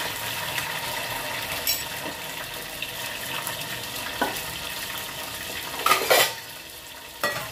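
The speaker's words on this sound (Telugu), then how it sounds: "గిన్నెలో నూనె పోసుకున్నాం కదా మనం. ఇగో ఈ టమాటాలను అయితే వేసుకోవాలి." Tomatoes sizzle in hot oil in a pot, a constant frying hiss broken by a few sharp clatters of stirring utensils, close and fairly loud with no voices.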